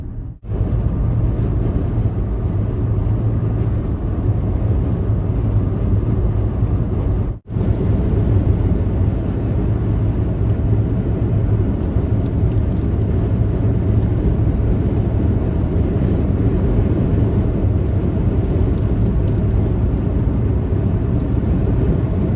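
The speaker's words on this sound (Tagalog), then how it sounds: "Early morning traffic." Early morning road traffic on a highway heading into Kentucky, a loud continuous rumble of vehicles with a brief dip partway through, otherwise steady and close.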